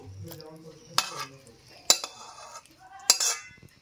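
Cooked tel koi fish curry is poured onto a plate, marked by three sharp metal-on-plate clinks from a utensil over faint kitchen background.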